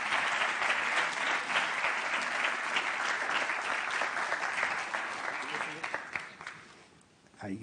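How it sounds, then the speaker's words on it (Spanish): A hall audience at a Real Club Deportivo foundation event applauds the club president, dense sustained clapping close and loud for most of the stretch, thinning near the end before a brief burst. "un aplauso para o señor presidente"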